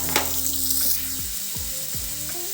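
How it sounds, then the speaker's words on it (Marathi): Sliced onion frying in hot oil with cloves, cinnamon and bay leaf: a loud, continuous close sizzle with a few scraping stirs and soft knocks toward the end. "आता ह्याच्यामध्ये हा कांदा टाकून फ्राय करून घेते"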